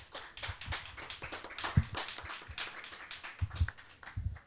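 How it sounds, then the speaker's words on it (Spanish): An audience claps for a few seconds in a large pavilion, the applause fairly soft and uneven, with individual sharp claps standing out. "le damos un aplauso"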